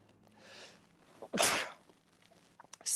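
A single sharp human sneeze bursts out close and loud after a quiet breathy intake, with soft rustling afterward.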